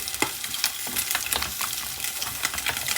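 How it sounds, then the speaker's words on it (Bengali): Bottle gourd sautéing with spices in a hot pan, a steady crackling sizzle with scattered sharper pops and stirring scrapes, close and continuous with no talking. "সব মশলা আমি কষিয়ে লাউ দিয়ে দিলাম এখন লাউটাকে কষিয়ে তারপরে ঝোল দিয়ে দেবো"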